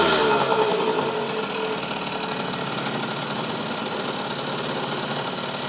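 A rebuilt Yamaha GT80 motorcycle engine runs steadily up close, giving a busy, rattling two-stroke idle that holds constant from start to finish.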